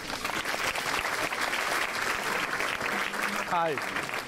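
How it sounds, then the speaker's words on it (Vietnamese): A studio audience on a Vietnamese family game show claps steadily and energetically. A voice cuts in briefly near the end. "Đầu tiên là chúng ta vỗ tay để chúc mừng cho 10 con vịt đã đeo vòng."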